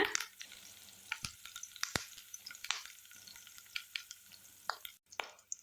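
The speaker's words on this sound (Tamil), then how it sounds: "சேர்த்துட்டு எல்லாத்தையும் ஒரு வாட்டி நல்லா வறுத்து விட்டுருங்க" Curry leaves and spices fry in oil for a Tamil egg curry, crackling and spitting in quick, irregular pops over a soft background hiss, fairly quiet and close.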